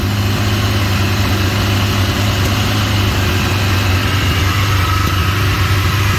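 A 1992 Kawasaki Voyager motorcycle engine idling on its first start, a loud, steady, close rumble with a slightly high idle that holds unbroken throughout, no voices.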